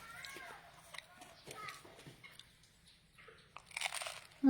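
Crunchy food is bitten and chewed close up, giving several sharp, crisp crunches spread unevenly across the moment, with a voice and other people talking around them.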